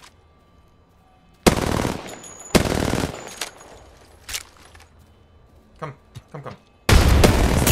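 Gunfire in the Apex Legends video game: dense, loud machine-gun bursts near the start, scattered single shots and pops through the middle, then another heavy burst at the end, with a brief spoken word.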